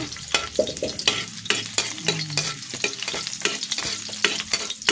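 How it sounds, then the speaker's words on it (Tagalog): Garlic frying in a wok, with a busy sizzle and repeated scraping stirs of the spatula in a steady, uneven rhythm, close up and with no talking. "Lutuin lang natin ng konti yung bawang."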